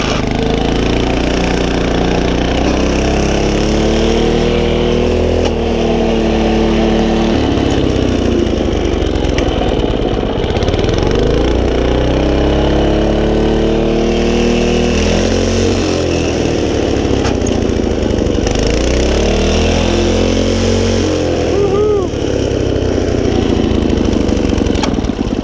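A HORSE rototiller engine runs loud and close while tilling a garden, its steady motor drone rising and dipping in load as the tines churn soil, continuous throughout with no talk.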